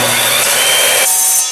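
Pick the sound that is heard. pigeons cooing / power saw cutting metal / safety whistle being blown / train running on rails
power saw cutting metal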